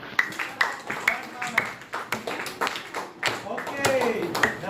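Classroom clapping in a geography lesson, a series of short sharp claps in an uneven rhythm from a small group, close by, with a teacher's voice over them.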